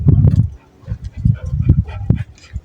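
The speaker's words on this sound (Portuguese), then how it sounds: "Um late na esquina, outro late aqui." A dog barks several times in short, sharp bursts, close and loud, with brief pauses between the barks.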